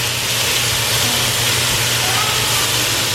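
Onions and minced garlic sautéing in a pan, a steady broad hiss and sizzle held evenly, with a faint low hum from the kitchen underneath.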